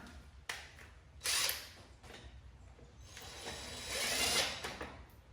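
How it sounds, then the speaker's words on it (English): Screws are tightened on a Jeep Gladiator bumper, giving faint close mechanical ratcheting and clicking in a few short bursts over a low background. "now I'm going to go ahead and get these center screws on because they will hold the bumper"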